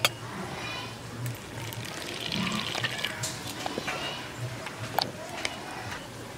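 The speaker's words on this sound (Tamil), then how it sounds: "இப்போ தண்ணி ஊற்றிட்டு நல்லா கலந்து வச்சிடலாம்." Water splashes and trickles into a cup of chili powder, coriander powder, garam masala and turmeric, with clinks and stirring sounds scattered over a few seconds.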